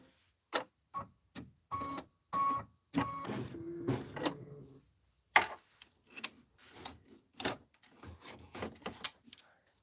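An embroidery machine stitches out a Kimberbell quilt tile, a run of quick mechanical ticking and whirring bursts with short pauses, close and moderately quiet.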